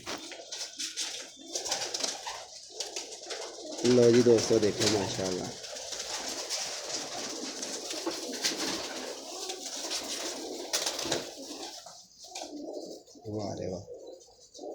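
Pigeons for sale cooing nearby, repeated soft throaty coos in short rolling bursts, with someone talking over and between them and faint chirps in the background.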